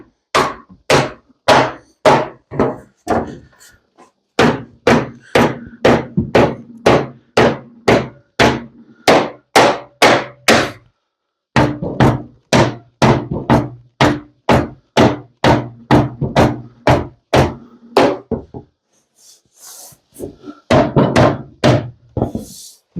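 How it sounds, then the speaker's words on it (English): Steady hammer blows, loud and close, come in quick rhythmic runs of a dozen or more sharp knocks separated by short pauses, on what may be a metal freeway sign, with no talk. "I think I'm going to go grab a different hammer."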